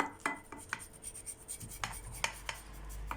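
Knife cutting a baked dish of potatoes with béchamel sauce and kashar cheese, soft rubbing and scraping with several faint, quick taps against the pan, quiet and close with no talking.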